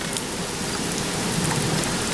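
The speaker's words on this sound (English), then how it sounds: "Hail! It's thundering. It's raining." Steady heavy rain pours during a hailstorm, a dense continuous hiss of drops drumming on surfaces, close and unbroken, with no clear thunder standing out.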